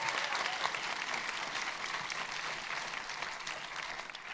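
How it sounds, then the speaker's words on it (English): Audience applause at a Barbie panel during an awards-season event in LA, a dense, even wash of clapping from a large crowd that holds steady throughout, fairly distant. "yes, please, an applause."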